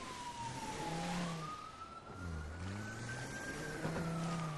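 A police siren in a video game wails in long rising and falling sweeps, moderately loud, over low rumbling car engine noise.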